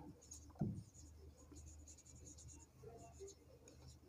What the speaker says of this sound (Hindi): तो हम लिखेंगे डॉक्टर राजेंद्र प्रसाद